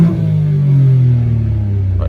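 A Citroen C1 fitted with a cone air filter revs up from idle. The engine note climbs and falls back in one close, loud sweep, recorded from inside the car with the window open.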